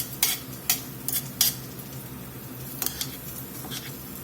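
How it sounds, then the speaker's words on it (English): Mushrooms tossed in butter in a pan: several sharp metallic clatters from the pan over a faint steady sizzle, with no talking. "Just want to get them tossed real good with that butter."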